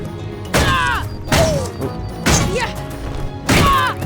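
Heavy hammer blows land in The Legend of Kay, a video game, as rats are smashed: four loud thudding whacks at irregular intervals over game background sounds.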